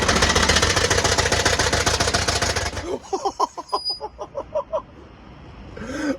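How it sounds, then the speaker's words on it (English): Seized engine of a cheap used car, first running rough and loud with a fast knocking throb, then chugging in about ten uneven, heavy pulses as it dies, with a faint voice underneath. "if you listen, look, the engine's seized"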